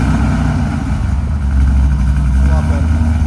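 An LS3-swapped C5 Corvette with a Valvetronic muffler, valves closed, idles in a deep, steady, loud rumble close by, with a faint rise in revs partway through.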